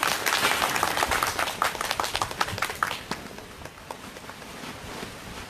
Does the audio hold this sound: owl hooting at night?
no